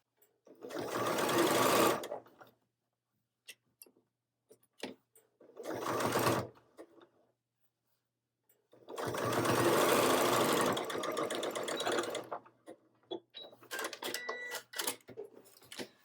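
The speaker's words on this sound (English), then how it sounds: "we're going to stitch this seam down here with a 1/2 inch seam allowance" A sewing machine stitches a half-inch seam on a quilted tote bag in several loud, close bursts of rapid mechanical whirring separated by pauses, with small clicks and handling noises between runs.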